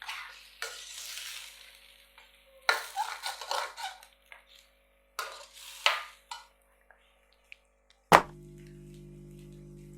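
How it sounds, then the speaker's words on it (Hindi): Mutton frying with yogurt in a pot for a white mutton karahi, a spoon stirring and scraping through the sizzling mixture in bursts, with a loud metallic clank near the end followed by a steady hum. "दही के साथ इसको फिर भून लेंगे 2-3 मिनट"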